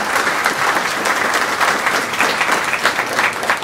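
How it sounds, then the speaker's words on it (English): A crowd at a community event introduction applauds steadily and densely, with the sustained clapping filling the whole stretch at a fairly loud, even level and no talk. "Yes, please, a huge round of applause."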